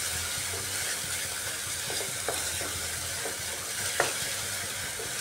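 An onion spice paste with salt and Kashmiri red chili powder cooks slowly in a pan, giving a soft, even sizzle with occasional scrapes and taps of a spatula stirring, fairly quiet and without talk.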